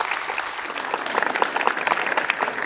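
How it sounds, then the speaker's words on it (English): A live audience at an UpTech event claps together in a brief, lively burst, the many hands close and loud throughout. "So a big round of applause for them."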